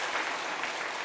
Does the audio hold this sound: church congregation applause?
yes